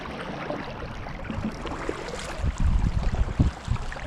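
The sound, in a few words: kayak paddling against the wind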